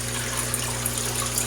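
Water flowing steadily through a DIY PVC drip overflow tube, a constant close rushing and trickling with a low hum, uninterrupted and fairly loud.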